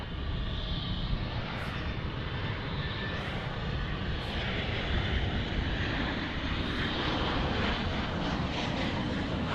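A Boeing 737-800 airliner departing DFW Airport at night produces a loud, continuous jet roar with broadband rumble that holds steady throughout, with no talk.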